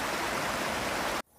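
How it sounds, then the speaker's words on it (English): A creek babbles in the Beartooth mountains of Montana and Wyoming, a steady broadband rush of running water heard close and alone, which cuts off abruptly near the end, leaving near silence. "Just listen to a creek, hear babble"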